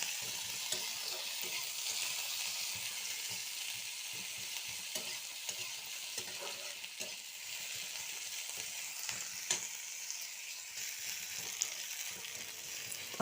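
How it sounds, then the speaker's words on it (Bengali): Onions frying with two dried red chillies in a pan: a continuous close hiss of sizzling oil with small irregular crackles and a few faint stirring scrapes, steady throughout with no voices. "দিয়ে ভেজে নেবো পেঁয়াজটা।"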